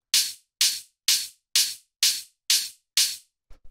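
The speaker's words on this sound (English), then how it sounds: "which starts with this main hi-hat," Two-layer main hi-hat from a tech house track, a mid-range punchy layer stacked with a bright airy one, striking seven evenly spaced times alone with short hissy decays, followed by a faint low thump.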